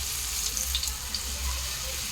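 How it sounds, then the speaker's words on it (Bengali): Kuli pitha filled with sandesh frying in oil over a clay stove, a steady hissing bubble with faint crackles and pops, moderately quiet and continuous. "তো দেখো কুলি পিঠেগুলো আমি ভেজে নেব।"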